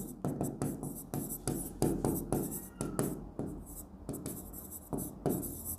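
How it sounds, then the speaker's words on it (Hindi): A pen writing out a formula on paper, with quick scratchy strokes that come in short irregular bursts, close and quiet. "फॉर्मूला लिख दूंगी"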